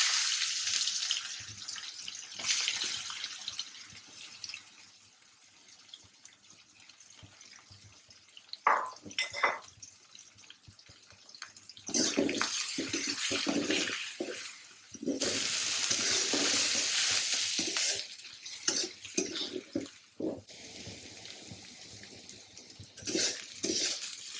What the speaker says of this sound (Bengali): এখন কুচানো পেঁয়াজ দিয়ে দিলাম।